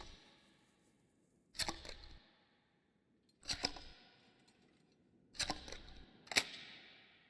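Shotgun shells loaded into a shotgun in the SCUM survival game, four crisp mechanical clacks at spaced intervals, close and clean against near silence.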